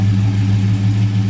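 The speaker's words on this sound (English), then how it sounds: "It's powered by a great running 440 V8 engine." A 1967 Plymouth Belvedere 2-door hardtop's 440 V8 with a 4-barrel carburetor idles close by, a loud, steady low rumble with a faint, even pulse and no talk over it.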